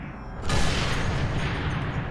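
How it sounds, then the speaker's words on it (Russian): Sniper rifle shot in the Sniper Elite 3 video game, a single heavy boom breaking in halfway through and rolling into a loud, sustained rumble. "рядышком услышат, безусловно, этот замечательный выстрел"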